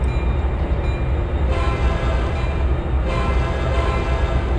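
A train runs in the Trainz 2022 railway simulator, a loud steady rumble of wheels and engine with continuous rolling noise throughout and no voices.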